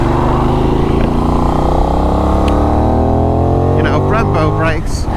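A Benelli 752S motorcycle engine accelerates in second gear, loud and close, its pitch climbing steadily before a quick shift near the end.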